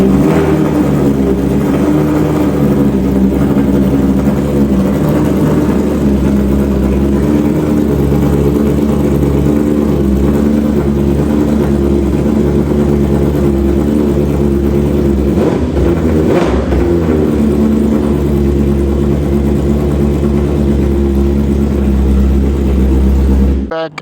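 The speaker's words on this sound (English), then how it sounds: "Full titanium aero exhaust on the 2025 BMW S1000RR. Go ahead, fire up, Tyler. Let's hear this thing." A 2025 BMW S1000RR fitted with a full titanium Arrow exhaust idles and revs continuously, a loud, close, sustained engine roar with a surge partway through.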